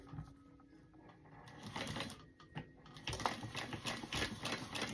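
A sewing machine stitches a card slot for a wallet, a rapid mechanical chatter that builds and runs in close bursts, fairly quiet and alone.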